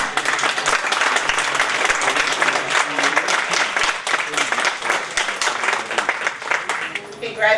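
Applause from an awards ceremony audience, a steady wash of many hands clapping at moderate volume, sustained for several seconds with a few voices mixed in.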